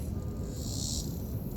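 Crickets by a pond, a faint continuous high chirring trill over low outdoor rumble, brief and steady with no speech.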